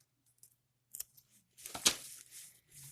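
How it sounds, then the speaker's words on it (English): Scissors snipping through a Red Velvet philodendron stem during repotting: a few faint, isolated clicks followed by one crisp, close snip, quiet and alone. "I'll cut this one here."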